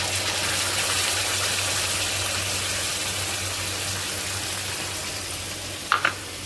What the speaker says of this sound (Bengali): পোস্ত বাটা দিয়ে যখন ভাজা ভাজা হয়ে আসবে, কড়াইতে মানে লেগে লেগে যাচ্ছে, পোস্ত ভাজা হয়ে যাচ্ছে